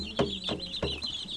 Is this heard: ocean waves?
no